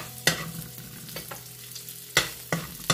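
Garlic fries in oil for a stir fry, with a low steady sizzle punctuated by a few sharp spatula scrapes and taps against the pan, close up and without speech.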